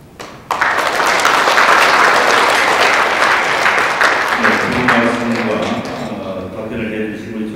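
Audience at a lecture forum giving hearty applause after a Q&A session with a speaker, a sudden onset of dense clapping that holds steady for several seconds before thinning as a voice begins speaking underneath.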